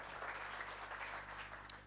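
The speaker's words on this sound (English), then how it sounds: "Please welcome Pandyan Saab with a big clap" Steady applause from a seminar audience, a continuous wash of clapping that holds at an even level throughout, slightly distant.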